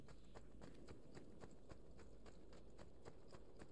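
Horse hooves clip-clop at a steady, even pace in Assassin's Creed II, a rhythmic series of distinct, moderately loud hoof strikes against a constant low background hum.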